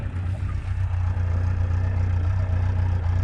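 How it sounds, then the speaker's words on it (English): Yamaha FJ1200 classic four-cylinder motorcycle on its original exhaust, idling warm: a steady, smooth low engine hum with an even throb, close and continuous throughout. "I really like the sound of the 4-cylinder."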